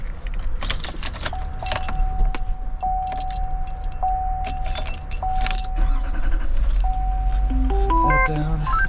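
A 2021 Chevy Silverado 5500 truck is started up, with keys jangling, repeated electronic chimes and beeps over a steady low engine rumble close by.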